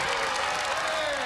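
A school assembly crowd at Abbott Elementary claps and cheers in a steady, dense wash of applause, loud and continuous for a moment with no break.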